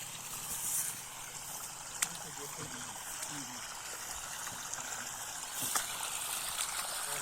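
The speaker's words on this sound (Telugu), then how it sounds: "నాలుగు అంగళాలు నీళ్ళు కూడా బాగానే వస్తున్నాయి" Steady trickling, gurgling water runs continuously from pipes feeding a paddy field, with a couple of faint clicks and an outdoor background hiss.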